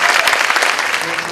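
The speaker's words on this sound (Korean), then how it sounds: "다시 한번 이 대표 학생들에게 큰 박수 부탁드립니다." A brief burst of crowd applause at a college of natural sciences entrance ceremony for representative students, dense and steady clapping from many hands throughout.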